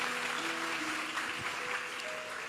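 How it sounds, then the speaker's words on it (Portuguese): Applause fills a youth event hall in Fortaleza, a continuous even clapping noise that stays loud for the whole moment. "Aplauda os meus amigos aqui."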